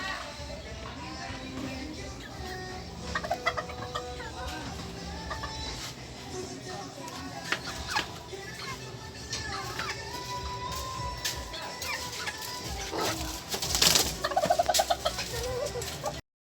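Chickens and four roosters cluck, gobble and call in a small backyard coop, scattered bird calls over a steady outdoor background with occasional louder squawks near the end and children faintly heard.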